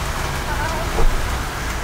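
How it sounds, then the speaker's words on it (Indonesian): Rain falls steadily outdoors in a rural village, making a broad, even hiss of drops with a slight swell near the middle, fairly close and unbroken. "Hujan euy."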